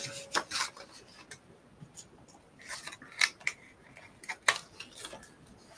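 Scissors snip pages out of a book, making a series of short, crisp cutting clicks and paper rustles at close range in a quiet room.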